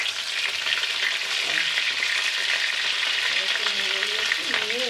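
Pointed gourd curry for malai patol sizzles steadily in an uncovered pan, a dense continuous frying hiss with occasional soft stirring scrapes, close and fairly loud throughout.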